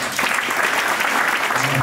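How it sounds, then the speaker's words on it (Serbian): A film premiere audience in Chicago, gathered for the film Crna Gora podeljena zemlja, breaks into dense, steady applause that fills the whole moment at an even, lively level. "molim vas jedan aplauz"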